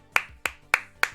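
Four crisp hand claps from one person, evenly paced and close to the microphone, with nothing else heard between them.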